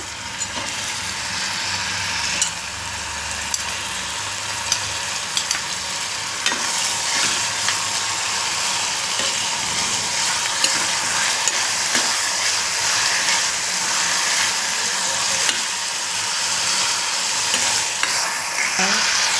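Curry leaves and tomato fry in a pan for catfish curry, a dense continuous sizzle with scattered spatters and stirring scrapes, close and fairly loud, with no voices.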